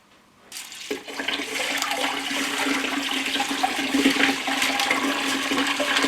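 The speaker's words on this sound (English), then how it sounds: "So let's get some water on." Tap water pours steadily to rinse plastic pellets from a rock tumbler used on tiger's eye, a continuous close splashing rush that starts after a brief quiet moment and carries on evenly.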